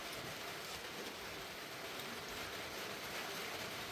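Rain pours down around a home in Thailand, a constant, thick rushing hiss with no breaks, close and fairly loud, and nobody speaks.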